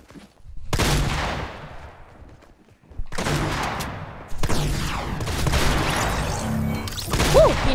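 P90 gunfire in Fortnite, with loud, close bursts of rapid shots broken by short pauses, some overlapping like a fusillade and no talk over them.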